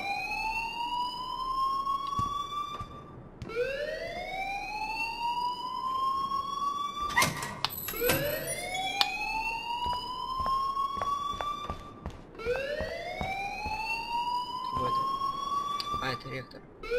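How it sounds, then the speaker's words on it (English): A fire alarm in the video game Life is Strange wails in long rising sweeps, repeating every few seconds, loud and insistent, with voices talking beneath it. "please turn off that alarm since that's your job"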